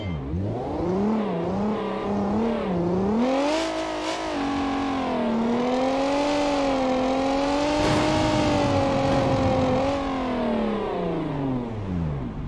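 Skoda car driving in the BeamNG driving simulator, a steady engine drone rising and falling in pitch as it revs and shifts, loud and continuous throughout.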